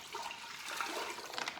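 Water pours steadily from a measuring cup into a cooking pot for shrimp étouffée, a continuous splashing flow lasting under two seconds at moderate, close volume.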